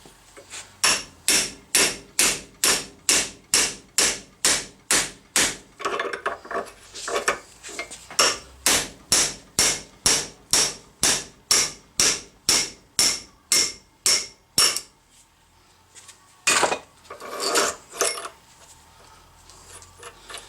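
Steady metallic hammer blows drive a worn copper-clad bushing out of a 2015 truck through an adapter: about two dozen sharp, evenly paced strikes close up, a brief pause, then a few more hits.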